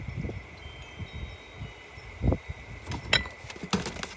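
Wind gusting across a microphone outdoors gives an uneven low rumble in several buffeting bursts, with a few faint clinks in the background.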